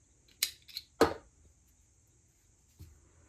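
Scissors snip off the excess yarn on a handmade crocheted bath sponge: two or three quick, crisp cuts close by, with quiet gaps and no talking.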